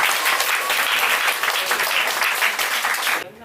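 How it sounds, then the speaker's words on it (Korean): Audience applause filling a lecture hall at the close of a humanities concert talk on the solar system, dense steady clapping from the crowd that holds throughout and then cuts off abruptly near the end. "그 박수로 시작하겠습니다."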